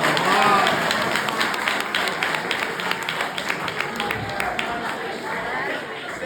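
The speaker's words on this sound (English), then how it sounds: "Standing ovation." At a piano recital, an audience gives a standing ovation, with dense, sustained clapping and some crowd chatter filling the room steadily throughout.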